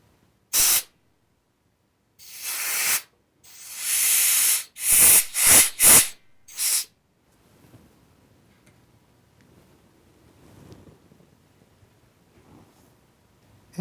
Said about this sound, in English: Clean out all metal chips with mineral spirits and shop air.